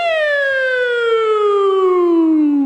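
A single long police siren wail slides slowly downward in pitch, loud and steady, with no voices.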